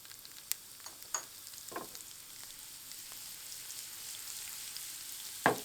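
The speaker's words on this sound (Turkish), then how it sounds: "Yağ ısındıktan sonra dolu dolu bir tatlı kaşığı pul biber ilave ediyorum" A heaped dessert spoon of chili flakes sizzles in hot oil in a pan, a faint steady hiss broken by a few sharp pops and crackles.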